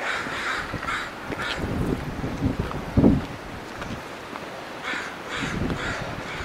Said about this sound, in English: the crows certainly like my yard